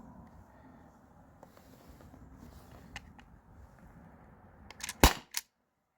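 A T4E HDP50 Gen 2 HPA pistol with a PEX detent fires through a chronograph: sharp cracks bunch together near the end after a quiet stretch of low background noise.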